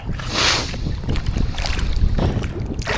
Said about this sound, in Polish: Uuu, jaka fala.